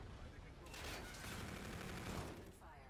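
Rapid video game gunfire sounds as a dense, quiet burst of fully automatic shots, with voices mixed in.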